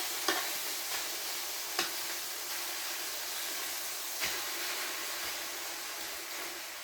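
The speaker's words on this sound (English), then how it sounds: "these pork chops have cooked about 4 minutes on one side. We're going to flip them over." Pork chops sizzle in a hot pan after being flipped, a steady, moderately quiet frying hiss with a few soft clicks and taps of utensils, close and without talk.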